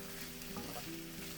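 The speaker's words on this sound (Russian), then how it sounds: "Обжариваем буквально 1 минуту" Mushrooms and garlic sizzle in a frying pan, a soft, steady crackle with faint stirring, quiet and close with no talk.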